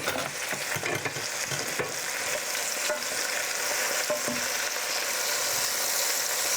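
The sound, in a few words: onion and celery frying in a pot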